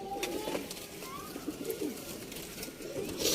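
Sialkoti pigeons of the 35 strain, young birds kept for sale, cooing softly and repeatedly at close range against a steady background hum.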